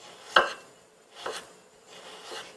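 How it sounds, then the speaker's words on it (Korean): A knife slices ginger very thinly on a cutting board, giving three separate dry cuts, the first sharp and fairly loud and the later two softer, in a quiet kitchen. "이렇게 해서 최대한 얇게 썰어 준비를 합니다."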